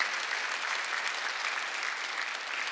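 A church congregation applauds during a Sunday service, a dense, steady wash of clapping that stays even throughout with no voices above it.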